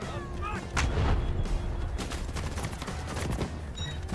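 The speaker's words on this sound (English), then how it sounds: "Artillery cover coming" Artillery fire in the Delta Force video game, a sustained run of loud, overlapping blasts and rumbling explosions under brief background voices.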